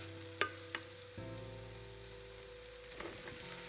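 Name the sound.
stirring fried cauliflower into Gobi Manchurian gravy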